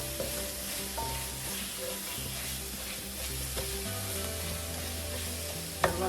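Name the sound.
frying ginger garlic in a pan for chicken curry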